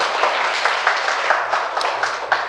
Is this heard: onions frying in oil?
no